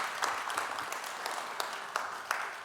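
Congregation at a general assembly opening worship service standing and applauding to welcome former moderators, with sustained clapping from a large crowd and a few sharper claps standing out, no voices.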